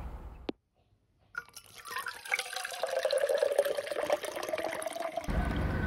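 Coconut water poured into a stainless steel travel mug, a steady trickling fill close by that rises after a short click and gap, then stops abruptly.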